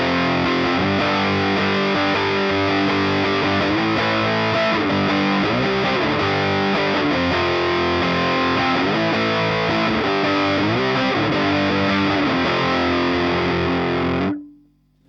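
A heavily distorted electric guitar riffs in a tone with resonance and presence set to midpoint, playing thick sustained chords and rhythmic chugs at a loud steady level before cutting off abruptly.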